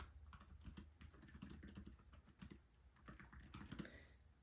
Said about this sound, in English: I'll just type a few things so you can hear the clicks.